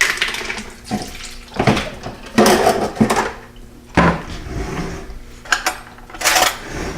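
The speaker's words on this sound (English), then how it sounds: "I'm just using a fork and just kind of pressing it, and that will press out some excess moisture" Fork pressing and crumbling drained firm tofu in a dish, heard as a series of irregular wet squelches and clinks of metal on the dish, close and moderately loud with short pauses between strokes.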